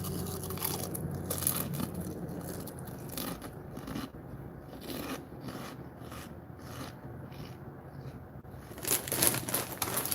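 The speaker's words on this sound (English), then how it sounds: "Sorry for the crunching, people." Someone eats crunchy food close up, with a rapid series of dry, rasping bites and chews carrying on for several seconds, loud and near with no talking.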